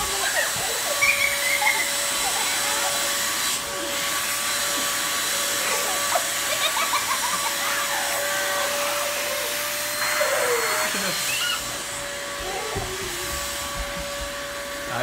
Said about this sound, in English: Now can we vacuum these, Michael?